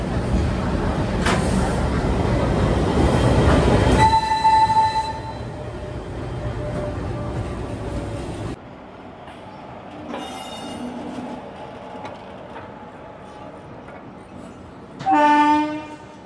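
A train on the line near Moradabad Junction in Uttar Pradesh rumbles loudly, then long horn blasts and high wheel squeals ring out, with a quieter stretch before a final burst of squealing.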